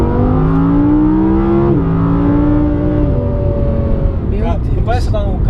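A 2017 Audi R8 accelerating hard, heard from the cabin as a loud engine roar climbing through the gears, with a brief dip at each shift and people talking over it near the end.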